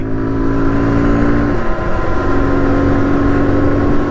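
A motorcycle engine revs up close and loud, its pitch climbing in a rising whine, then drops back to a lower steady drone partway through; no one speaks.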